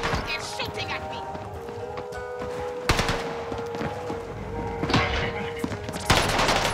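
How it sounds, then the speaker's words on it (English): Warzone gunfire during a battle royale match: bursts of rapid automatic fire and sharp single shots crack repeatedly over a steady background hum, with people talking throughout. "They're shooting at me."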